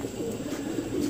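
Pigeons kept for sale in a Delhi loft coo in a low, steady murmur, several birds overlapping at moderate loudness for the whole stretch.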